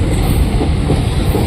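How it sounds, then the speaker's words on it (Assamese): A train rolling past a railway crossing, a loud, close, continuous low rumble of wheels on track with faint clatter throughout. "ৰখাতে একদম ট্ৰেইন আহি গ'ল"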